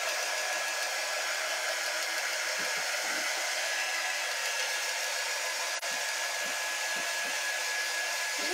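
A hair dryer blows steadily on a freshly painted pattern on a planter, a continuous close whirring hum with a faint whine, running unbroken throughout.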